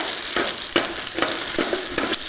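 Red peppers are seared quickly in a hot pan for beef in black bean sauce, a loud continuous sizzle punctuated by rhythmic scraping stirs about every half second.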